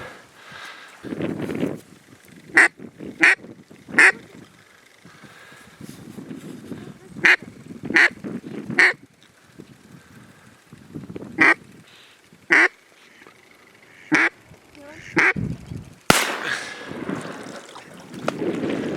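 Mallard ducks quack in repeated sharp bursts across a windy duck-hunting marsh, the calls spaced irregularly and fairly close, with hunters talking quietly in between and wind buffeting throughout.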